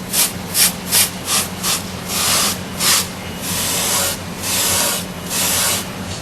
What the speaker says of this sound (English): So we can use the sandpaper here.